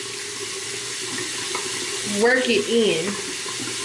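Tap water runs steadily into a kitchen sink as something is rinsed off, a constant close hiss with a short stretch of talking over it.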